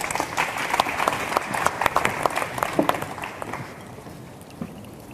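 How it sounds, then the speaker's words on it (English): Conference audience applause at an international policy forum on the creative industries, a lively spread of individual hand claps building and then thinning out and fading by the end. "hopefully, with a big applause from the audience"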